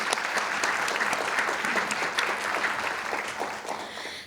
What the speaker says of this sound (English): So let's give that another round of applause.